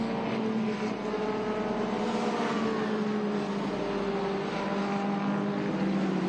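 A vintage race car's engine drones steadily at a distance from the turn 7 runoff area at Portland International Raceway, a continuous, moderately loud hum with no talk.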